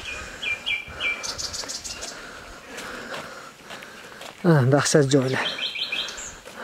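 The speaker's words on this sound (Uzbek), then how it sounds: "Eshitilayotgandir, qushlar sayrayotgan." Birds chirp and sing in a mountain area near Charvak and Chimyon, with repeated high tweeting phrases close by, while someone speaks briefly and footsteps pass underneath.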